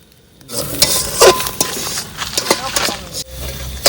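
Chilli powder and turmeric masala frying in a pan for a Bengali chicken curry, heard as a close, busy sizzle with a few sharp scrapes and clinks of a spoon against the pan.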